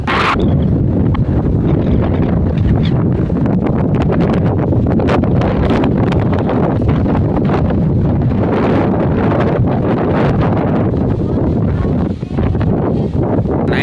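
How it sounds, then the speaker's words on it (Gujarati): Strong wind buffets the microphone continuously, a loud, steady roar with gusty rustling and no pauses. "જો આમ મસ્ત મજાનો પવન પણ બહુ છે, ઠંડો ઠંડો પવન આવે છે।"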